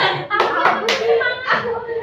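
A high school class clapping a rhythmic 'tepuk semangat' cheer as an ice-breaker, several quick bursts of group clapping close by, mixed with children's voices.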